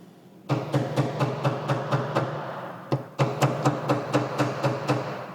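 Alignment pins are tapped into drilled holes in a CNC-cut sign with a hammer, in two runs of sharp, evenly spaced knocks that are close and fairly loud, with a brief pause between the runs.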